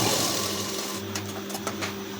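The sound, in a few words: sewing machine back-tack stitching blouse tassel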